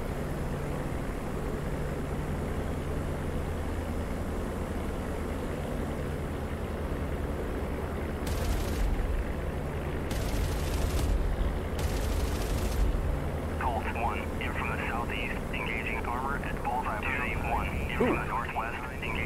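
A P-47D Thunderbolt in DCS World strafes with its eight machine guns, firing three short, loud bursts over a steady engine drone, while someone talks over the flight.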